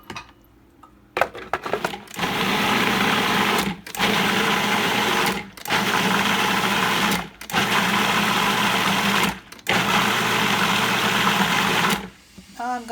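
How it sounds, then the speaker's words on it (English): A kitchen blender purees cooked onion in four loud, steady bursts of whirring motor noise separated by short pauses, with a whine at the start of each run. "Now I'm gonna add my cooked onion and blend it just like puree."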